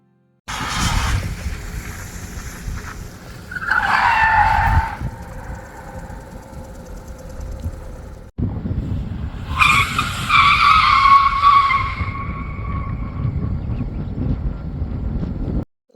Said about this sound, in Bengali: গাড়িগুলো যখন থামছে কি সাংঘাতিক আওয়াজই না হচ্ছে